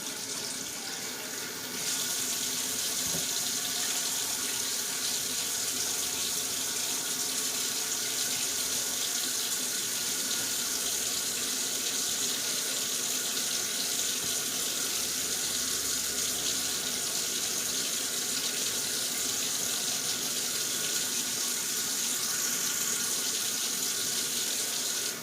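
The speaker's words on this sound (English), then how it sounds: "I'm going to pour it out and then rinse out my sink and wash my hands." A kitchen faucet runs steadily into a sink for a long stretch, a constant bright hiss of splashing water heard close, with no talk over it.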